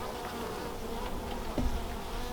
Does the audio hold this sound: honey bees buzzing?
yes